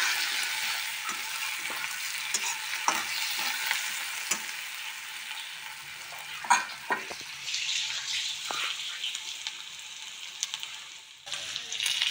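Crushed ginger, garlic and chillies fry in hot oil in a pan for an Assamese fish curry, giving a steady close sizzle broken by scattered clicks and scrapes of stirring.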